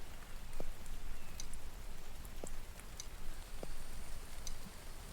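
Rain falling in the survival video game The Infected, a steady, soft hiss of rainfall with a few faint ticking drops and no voices.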